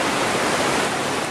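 The Colorado River runs fast through the Grand Canyon near the mouth of Pipe Creek, a steady, loud broadband rush of moving water with no break and no voices.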